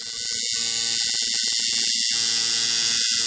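A tattoo machine tattooing black ink buzzes in a steady, continuous high whine close up, with a few brief dips as the needle works.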